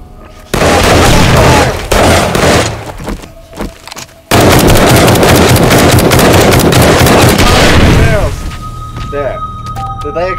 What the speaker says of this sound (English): Yeah, the barrels, I think, exploded and killed me.